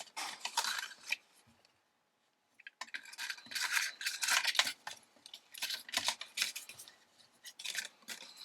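Scissors cut through paper for a small folded craft box in crisp snipping bursts, close by, with a brief quiet pause early on before the cutting resumes in quick repeated strokes.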